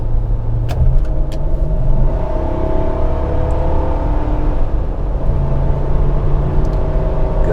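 A 2003 Toyota 4Runner with a V8 and about 350,000 miles accelerates smoothly, its engine note rising steadily and continuously from inside the cabin with no talk.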